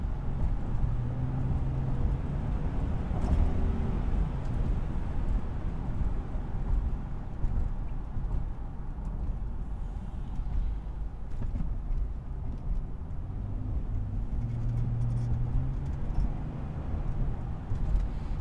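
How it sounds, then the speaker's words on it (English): A Chevrolet Trailblazer truck idles with its stock air filter, giving a low, steady engine rumble that runs continuously at a moderate, quiet level. "listen how the truck sounds right now"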